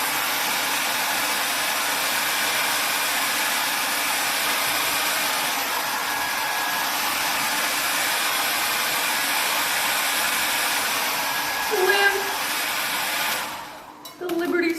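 A hair dryer on its cold setting blows a steady, loud airy whoosh close by for most of the stretch, ending in a few bumps and handling knocks as it is moved.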